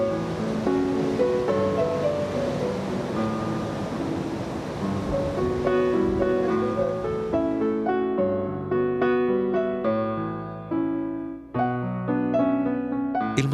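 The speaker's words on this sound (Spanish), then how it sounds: "El mascarón de proa rompe las olas azules" Blue ocean waves break against a ship's bow figurehead in a steady rushing wash of surf, mixed under sustained tonal music that takes over toward the end.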